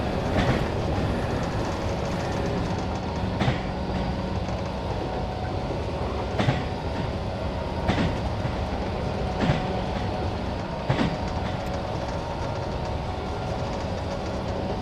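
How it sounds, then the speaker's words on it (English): A mainline train rolls past in the Running Train simulator, with a steady dense rumble and regular clickety-clack wheel beats repeating every couple of seconds throughout, loud and close, with no talking. "There goes another train."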